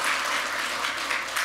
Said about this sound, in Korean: 박수로 격려해 주세요.